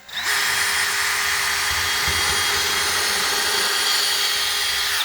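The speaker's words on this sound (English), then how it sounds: "Let's drill a hole right here." A power drill whines steadily at close range, a loud continuous motor drone that bites into material for several seconds before stopping.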